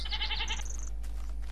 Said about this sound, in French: c'est des chèvres